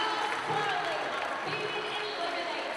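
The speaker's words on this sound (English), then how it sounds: "all these people booing, they're distraught" A wrestling arena crowd boos after a knockout elimination, a dense, sustained roar of voices filling the hall with a commentator's talk faintly running through it.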